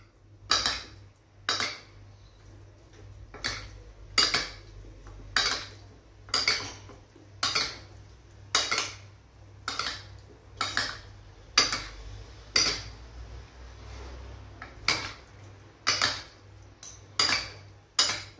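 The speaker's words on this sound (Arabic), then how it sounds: "ودابا نخلطها، دابا نخلطوها مزيان" Salad tossed with salt, pepper and vinegar, utensils clinking against a dish in a steady rhythm of about twenty sharp knocks, close and fairly loud, with a low background hum and no talking.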